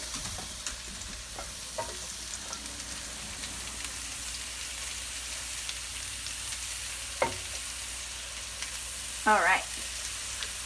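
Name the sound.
meatballs sizzling in a frying pan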